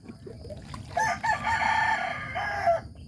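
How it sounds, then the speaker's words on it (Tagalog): A rooster crows once, a long drawn-out call at moderate distance, over faint background noise. "nagsasaw pa yung ating manok"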